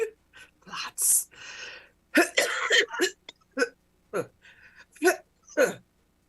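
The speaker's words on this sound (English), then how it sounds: "it's a cough." A woman coughs several times in short, harsh bursts with gasping breaths and throat-clearing between them, close and fairly loud, with no other sound behind it.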